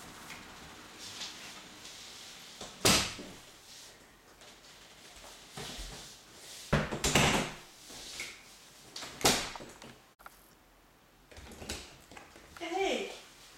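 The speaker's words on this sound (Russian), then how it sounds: "Наверное, надо закрыть все двери." Doors in a house being closed one after another, several separate thuds and bangs spread out over time, with people talking between them.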